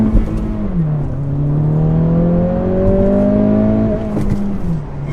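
A 2023 Acura Integra accelerates hard toward redline. Its engine note climbs steadily and loudly from inside the car, then drops off abruptly near the end as the power cuts out. No one speaks.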